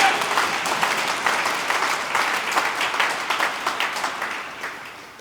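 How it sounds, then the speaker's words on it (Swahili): A Pentecostal church congregation claps for Jesus during a Pentecost sermon, a loud, sustained burst of many hands applauding together that gradually thins toward the end. "Mpigie Bwana Yesu makofi"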